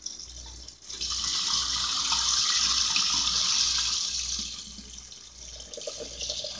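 Water rushes steadily through a vibratory tumbler in a small shop, draining fast with a broad gushing hiss that swells, holds for a few seconds, then tapers into trickles over a low motor hum.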